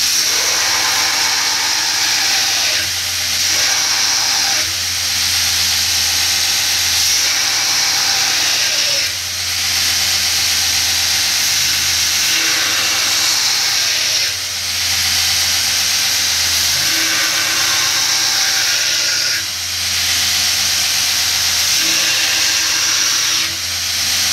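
Power grinder shaping the tang of a knife made from round bar, a loud, continuous abrasive whine and hiss with brief dips as the piece is lifted and pressed again, close up and with no talking.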